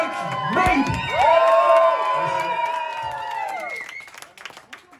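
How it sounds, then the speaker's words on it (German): A concert crowd in a club cheers and applauds at the end of a show, with loud sustained whoops and high-pitched shouts over steady clapping that gradually thins out. "Und einen krönenden Applaus so als letztes."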